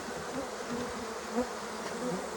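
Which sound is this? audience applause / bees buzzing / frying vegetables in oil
bees buzzing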